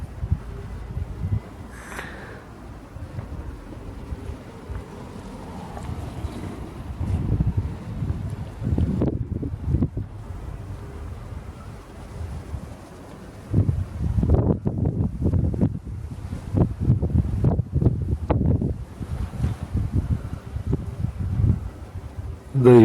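Gusty wind buffets a microphone outdoors in a tomato garden, rumbling low and rising in loud bursts, with a few brief thuds and quiet talk early on.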